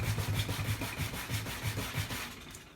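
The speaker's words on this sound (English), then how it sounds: "I'm just going to true it up a little bit with this sanding block" A hand sanding block rubs back and forth across a wooden acoustic guitar part, truing it flat, with steady repeated strokes heard close and alone.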